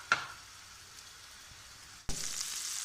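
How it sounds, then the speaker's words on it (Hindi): Spiced chicken in a frying pan, a faint hiss after a sharp knock, then a sudden louder knock and a stronger, steady sizzle that carries on to the end, with no talking. "चिकन अच्छी तरह फ्राई हो चुका है"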